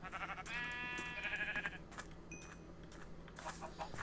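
A Minecraft sheep gives a short nasal bleat in the game, fairly quiet over soft background noise, with a few small clicks and a brief tone afterward.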